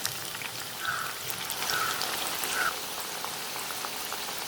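Leftover idli vada pieces deep-fry in hot oil, giving a steady bubbling, crackling hiss throughout, even and close with no voices.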